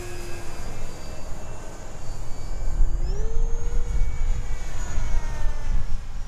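A Durafly 1100mm Spitfire 4s electric RC model airplane flying overhead in the early morning, its motor whining steadily with a rising pitch change midway, over continuous wind and outdoor noise.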